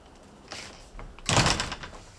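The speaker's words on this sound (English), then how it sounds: "Shut the door." A door swings shut in an indoor shop scene from a 1971 British television drama, giving a couple of soft knocks followed by a louder, close thud with a brief rattle as it settles.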